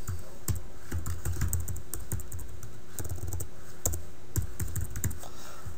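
Rapid, steady typing on a computer keyboard while entering a hostname, with crisp close keystroke clicks continuing throughout with no talking.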